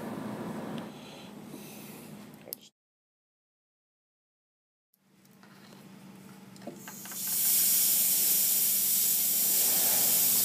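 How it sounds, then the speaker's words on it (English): A homemade airbrush built from a straw gives off a steady breathy spray hiss, then falls silent for a couple of seconds before a stronger, brighter hissing spray resumes and holds to the end. "So there you have a cool little airbrush tool you can mess around with."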